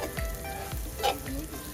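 A mud crab roasting in a pan sizzles steadily and close by, with a few soft stirring scrapes rising briefly over the crackle.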